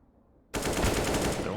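Rifle fire in a Counter-Strike match on the Overpass map: after a brief quiet lead-in, a sudden loud burst of rapid automatic gunfire continues without a break to the end.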